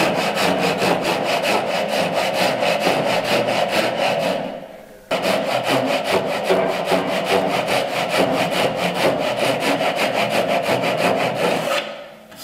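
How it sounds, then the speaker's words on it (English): A hand saw rasps through wood, cutting a tenon shoulder at 45 degrees with fast, even back-and-forth strokes. The sawing is loud and close, pauses briefly near the middle, then resumes, with no voices. "So I've cut the one shoulder of the tenon at 45 degrees."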